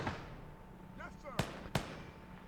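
Smoke grenades land in the WWII video game Gates of Hell: Ostfront as two sharp, short pops about a third of a second apart, fairly faint against a quiet background.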